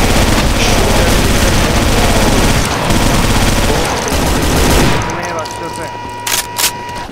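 Minigun fire in the video game Brutal Doom: a loud, continuous rapid-fire roar for about five seconds that then cuts off, leaving quieter game sounds and a couple of short bangs.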